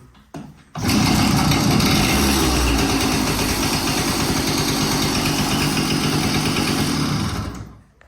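A Romet Ogar 200 moped, left standing in a shed for over a decade, running steadily after being started: a loud, close two-stroke rattle that holds for about seven seconds, then cuts off.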